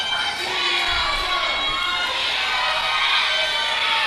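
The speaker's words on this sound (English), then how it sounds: "the chant the crowd's hollering Chia Pet" A wrestling show crowd keeps up a steady, dense roar of hollering and chanting voices that fills the hall, loud and continuous from start to finish.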